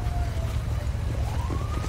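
Wailing siren of an ambulance in a roleplay video game, a steady rising-and-falling tone sounding continuously over a loud low rumble of game traffic.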